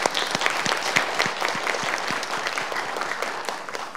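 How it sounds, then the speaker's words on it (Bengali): Audience applauding the chief guest, a government minister, at a formal ceremony: a steady, dense round of clapping from a crowd, continuous and fairly loud throughout, with no talk over it. "সবাই জোরে তালি দিয়ে অভিনন্দন জানাই"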